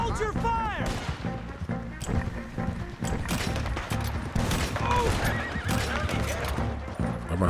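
Horses neigh and whinny amid a Red Dead Redemption 2 gunfight, sharp whinnies rising over dense clip-clopping hooves, rapid gunfire and crashes, with people talking through the commotion.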